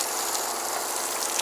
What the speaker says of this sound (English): you can hear the water pump now.